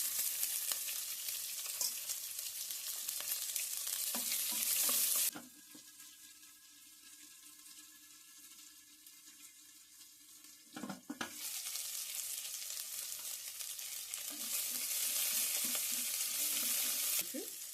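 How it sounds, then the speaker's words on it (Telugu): Onion frying in oil with curry leaves, a bright continuous sizzle that quietens to a low hum for several seconds, as if under a lid, then bursts back loudly with stirring scrapes. "ఇప్పుడు ఇప్పుడు ఉల్లిపాయ కూడా వేసేస్తాం"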